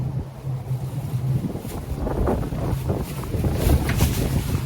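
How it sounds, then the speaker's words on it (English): Wind blows on a New York street, rumbling and buffeting the microphone as a steady, fairly loud roar with gusty swells, and no one speaks. "It's windy."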